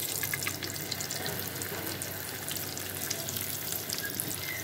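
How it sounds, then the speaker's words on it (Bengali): Fish frying in a pan, a continuous close sizzle and crackle with steady spitting pops throughout and no talk. "মাছ ভাজবো।"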